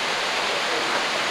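Waterfall on Madeira, a steady broadband rush of falling water that stays loud and even throughout with no breaks.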